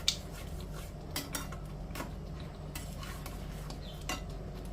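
Gram flour stirred into fenugreek leaves in a pan makes quiet scraping and light clinks of a spoon against metal. The sounds are soft and intermittent, and no one speaks.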